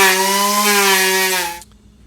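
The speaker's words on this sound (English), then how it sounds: "the better I can do with the grinder, the less handwork I have to do later" A power grinder shapes a laminated wooden recurve bow, a loud close steady whine with strong tonal harmonics that holds for about a second and a half, then stops abruptly and leaves near silence.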